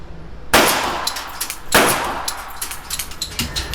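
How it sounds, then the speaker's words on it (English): A pistol clamped in a vise fires and blows itself apart: two sharp, loud metallic blasts about a second apart, each ringing off into a clattering decay, followed by smaller scattered clinks and rattles. "The gun blows itself apart."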